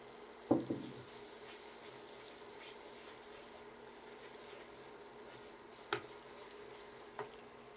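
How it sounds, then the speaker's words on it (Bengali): Dried fish is washed in a sink, a faint steady trickle of running water with a few sharp splashes and knocks, quiet and close with no talk. "এটা আপনারা ভালো করে ধুয়ে 5 মিনিট ভিজিয়ে রাখবেন"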